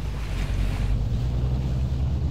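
Underwater ocean ambience in the Arma 3 battle royale game: a heavy, continuous low rumble and murky wash of water with a faint hiss above, steady and enveloping with no voices.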